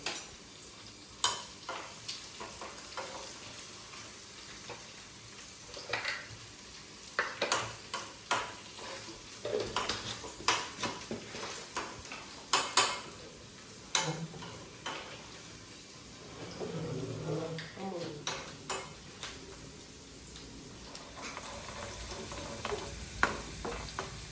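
Sliced onions with a pinch of salt fry in sunflower oil in a Kerala home kitchen for a bitter gourd and raw mango curry. A soft, steady sizzle runs throughout, broken by occasional sharp clicks and scrapes of a spoon against the pan.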